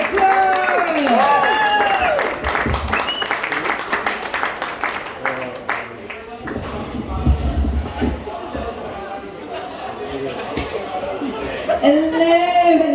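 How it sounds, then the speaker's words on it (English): Pub crowd at a hotel comedy night applauding and cheering for the next act, a dense spread of clapping mixed with chatter and voices, loud and close, tapering off and picking up again. "Massive round of applause."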